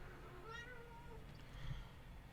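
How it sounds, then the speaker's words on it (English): A cat gives a single drawn-out meow at moderate distance, followed by quiet room tone with faint low rumble. "Kitty?"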